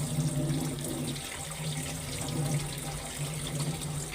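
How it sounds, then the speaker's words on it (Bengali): Cold tap water runs steadily while boiled noodles are rinsed in a kitchen sink, a constant close splashing stream without pauses. "একটু ঠান্ডা পানি দিয়েও ধুয়ে নিব, যাতে নুডলসটা একদমই লাইগা না যায়"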